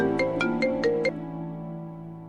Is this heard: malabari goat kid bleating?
no